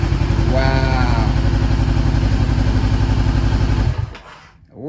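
A salvage auction motorcycle that had a no-crank, no-start fault now runs with a loud, steady, close engine rumble, then cuts out abruptly just before the end.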